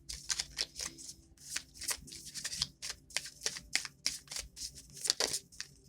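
Chakra oracle cards are shuffled by hand in repeated quick riffling bursts, close and crisp, separated by short pauses, with no talk.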